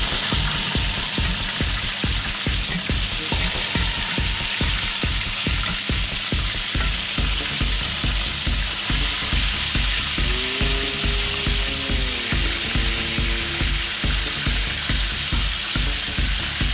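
Chicken pieces fry in oil after being turned, a loud, dense crackle and sizzle that runs steadily and close throughout, with a rhythmic bubbling pulse and no talking.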